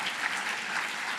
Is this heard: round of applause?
yes